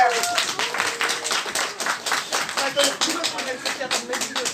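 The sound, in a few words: audience applause at a competition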